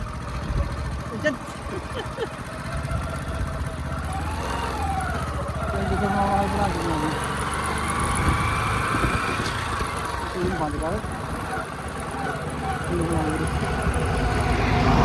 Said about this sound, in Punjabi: ਆਪਣਾ ਜਿਹੜਾ ਮੋਟਰਸਾਈਕਲ ਆ ਚੱਲ ਪਿਆ